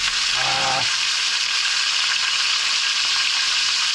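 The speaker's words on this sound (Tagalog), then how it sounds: "Subukan ko na kasi mag-prito mga ka-channel." Surahan fish fries in hot cooking oil with a constant dense sizzle, close and steady throughout, while a short low tone briefly sounds near the start.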